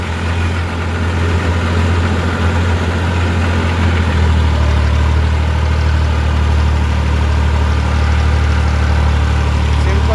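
A tractor engine runs continuously under load at about 1600 RPM during sugarcane planting, a loud, steady low drone that holds its pitch throughout with no pauses.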